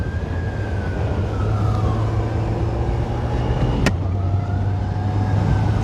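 Service vehicles with wailing sirens pass along the road during a cross country race, the tone rising and falling over a steady engine rumble, loud and near, with one sharp click partway through.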